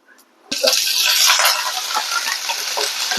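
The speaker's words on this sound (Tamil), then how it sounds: "கடுகு பொரிஞ்சோடனே கருவேப்பிலை போட்டுடலாம்." Curry leaves hitting hot oil just after mustard seeds pop, for ginger kuzhambu: a sudden loud, dense sizzle that bursts in and holds steady, crackling close up.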